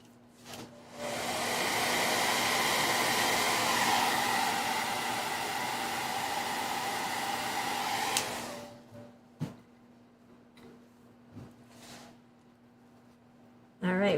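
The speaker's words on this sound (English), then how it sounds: "I'm probably going to bust out the blow dryer." Blow dryer running steadily and loudly for about seven seconds to dry stencil paint, then cutting off, leaving quiet room sounds and a few faint knocks.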